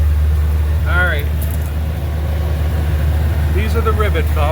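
A C3 Corvette engine idles steadily with a strong, continuous low rumble throughout, while people talk briefly over it.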